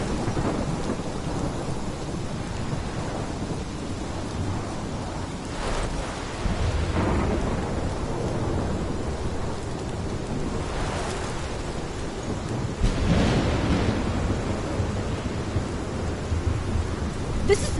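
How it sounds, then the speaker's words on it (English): A thunderstorm in Life is Strange, steady heavy rain roaring throughout with several deep rolling thunder crashes swelling up at intervals, no voices. "This is my storm."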